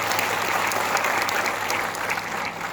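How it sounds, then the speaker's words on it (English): Sustained applause from a large audience at a Nurses Day speech at AIIMS Jodhpur, dense steady clapping throughout at full strength, with no talking over it. "I wish a big applause for them by all of us."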